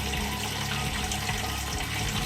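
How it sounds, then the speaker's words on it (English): Water streams steadily from a shower head into a film developing tank during a pre-hypo wash in a home darkroom rig, a constant close hiss and splash with no pauses and no talking. "I'm currently doing the pre-hypo wash using my new setup. It's basically a shower head with the tank and a bungee cord."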